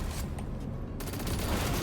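Gunfire in the Deep Rock Galactic Survivor video game: a few sharp shots at first, then a sudden dense burst of rapid automatic fire that carries on loud to the end.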